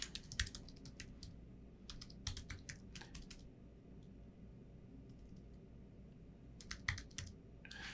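Typing on a computer keyboard while entering data into a FileMaker database, quiet quick bursts of key clicks separated by pauses, close and soft, with no voices.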